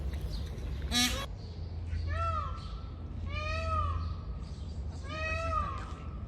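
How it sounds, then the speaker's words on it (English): Peacocks in a park in Valladolid give several loud, wailing calls in a rising-falling pattern, repeated three times over a low background hum, with a brief sharp noise near the start. "there's so many peacocks"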